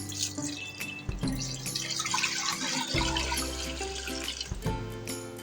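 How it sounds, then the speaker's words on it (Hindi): Half a litre of water is poured into a pot of frozen fatty beef for pulao, splashing and trickling steadily for several seconds with small clinks at the start and end. "इसमें हम हाफ़ लीटर ही पानी ऐड कर देंगे।"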